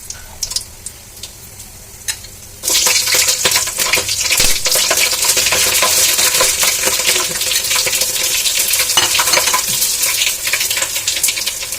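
Dry red chillies, cinnamon, cardamom, cloves and green chillies hit hot oil in a pan for khichuri. After a few quiet clicks, a loud, sudden sizzle bursts in and stays dense and steady, with no voices.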